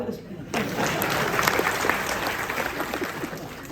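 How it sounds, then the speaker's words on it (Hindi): A college audience in Patan bursts into applause during a speech, a loud and sustained roar of clapping that swells in after a short quieter start and holds steady. "तो तालियां बजाओ।"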